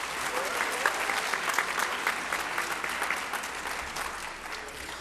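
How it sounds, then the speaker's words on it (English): Steady applause from a graduating class audience at a high school yearbook ceremony, dense clapping holding an even level throughout with a faint crowd murmur beneath. "You ought to give yourselves a big round of applause."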